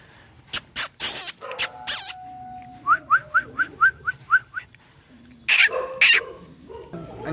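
Puppies give a run of quick, high yelps and squeaky barks, a rapid even series of short calls in the middle, mixed with louder clattering bursts and a brief whistle-like tone, close by.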